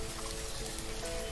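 Rain falls steadily in the village-building game Banished, a soft continuous hiss of drops with no other sounds.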